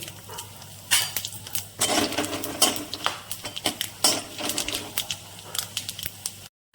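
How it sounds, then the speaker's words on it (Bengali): Bay leaf, dried chilli, whole garam masala and whole cumin hit hot oil left from frying paneer, crackling and spattering in dense, uneven bursts of close pops before stopping abruptly. "ফোড়ন করে নিচ্ছি তেজপাতা, শুকনো লঙ্কা, গোটা গরম মশলা, গোটা জিরে"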